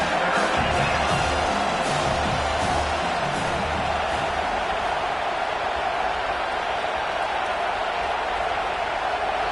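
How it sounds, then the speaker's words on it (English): Steady roar of a stadium crowd at a top-25 college football game between South Carolina and LSU, a dense continuous wash of noise with scattered cheers and whoops, loud and unbroken throughout. "with this place rocking, the crowd forces a false start"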